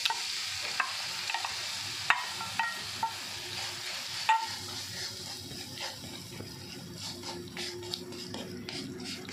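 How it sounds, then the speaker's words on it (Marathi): Jaggery melting in ghee in a pan over low heat, a gentle sizzle broken by repeated stirring scrapes and clinks, some louder knocks early on, with no talking. "त्यात मी सुरुवातीला गूळ वितळवून घेणार आहे."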